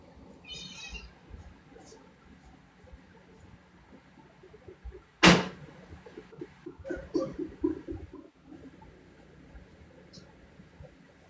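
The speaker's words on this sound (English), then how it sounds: "My cat's screaming for something." A pet cat lets out one loud, drawn-out meow close by in a quiet indoor room, with someone talking softly just before and after it.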